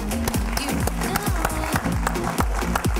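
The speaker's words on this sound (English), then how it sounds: "Loud round of applause, ladies and gentlemen." An audience at a Toastmasters evaluation contest final applauds as a district officer is called to the stage, brisk clapping over loud stage music with a pulsing beat, continuous for about three seconds.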